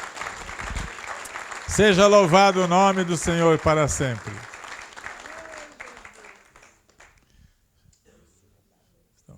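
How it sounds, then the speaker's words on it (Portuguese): Church congregation applauding during a service, a steady patter of clapping underneath someone speaking loudly over it, then the clapping fades away into near silence. "Aplauda o Senhor e glorifique o nome dEle."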